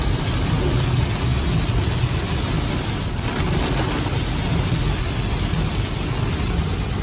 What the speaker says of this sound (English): the rain is really crazy